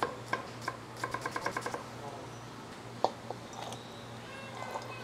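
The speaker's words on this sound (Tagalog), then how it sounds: "Sibuyas muna, pare. Dice lang natin ang medyo maliliit." A knife dices onion on a board in a quick run of close, crisp taps, then a few scattered cuts, over a low steady hum.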